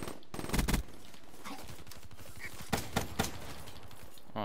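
Gunfire in a Gun Game match: a few sharp bursts early, then a quiet stretch and three distinct shots near the end, loud and close with no talk.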